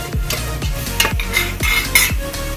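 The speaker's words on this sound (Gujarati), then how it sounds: "તો આમ હલાવતા રહેવાનું ને પકાવતા રહેવાનું" A spoon stirs Gujarati dal dhokli cooking in a pot, making about five loud, rhythmic scraping strokes close up, with no voices.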